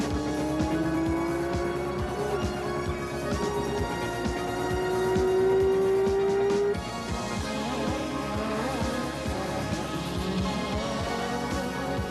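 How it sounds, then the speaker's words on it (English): Formula One race cars at the 1984 Detroit Grand Prix scream past with a continuous high-pitched engine wail, rising and shifting pitch as cars accelerate, loud and sustained without talk. "Starring at the Grand Prix are the cars and drivers from Formula One"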